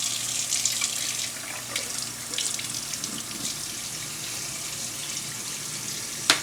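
Tap water runs steadily into a sink while salt is rinsed off chicken. The close, continuous splashing has small shifts as the meat moves under the stream, and a brief clunk comes near the end.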